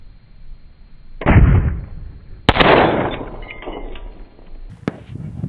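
Loud, sharp shots from a piston-driven AR-15 T-91 rifle firing 62-grain rounds at long-range targets outdoors, three cracking reports spaced a second or more apart, each trailing into a rolling echo.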